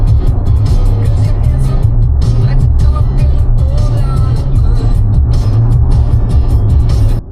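A car interior while driving on the road in Yorkshire: a steady, loud low engine and road rumble runs continuously throughout, cutting off abruptly at the very end.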